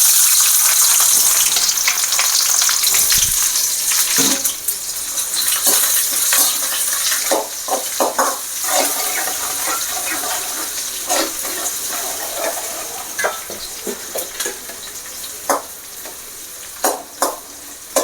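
Onions frying in hot oil for a mutton head curry, a steady bright sizzle with scraping stirring sounds and occasional clatter, close up and without speech.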